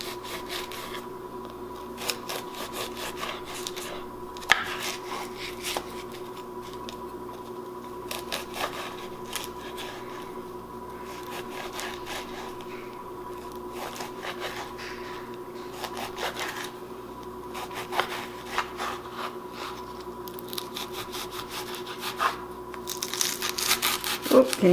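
A knife cuts through the crispy edges of a pumpkin rollup with repeated faint scraping, crunching strokes close by against a low steady hum, growing a little louder near the end.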